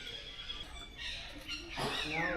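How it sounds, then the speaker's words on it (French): Monkeys calling among the temple ruins of Angkor, Cambodia, a series of high squeaky chirps and rising whistled cries against outdoor ambience, with a louder call near the end. "Je pensais que c'était des oiseaux, mais en fait c'est des singes."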